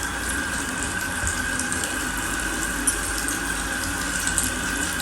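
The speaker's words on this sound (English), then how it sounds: "Directions say to moisten the sponge." Tap water runs steadily from a faucet to moisten a cleansing sponge, a continuous close, even splashing flow with no talking.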